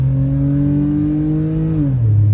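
A Nissan GT-R engine during a launch holds a steady, loud drone with clear harmonic tones, then the pitch drops briefly as if shifting before the engine roars on.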